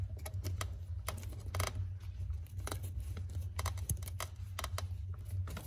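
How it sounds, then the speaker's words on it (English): A zip tie is ratcheted tight around a hose holding a small 90-degree fitting during an engine-bay install on a 2008–2014 Subaru WRX, giving quiet, rapid clicks in an uneven run close to the microphone. "I'm gonna go ahead and put it onto that hose with the zip tie."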